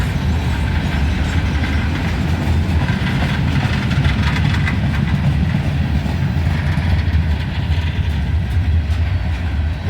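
A CSX freight train rolls past close and loud, with a steady deep engine rumble and continuous rattling of railcars and wheels over the full length.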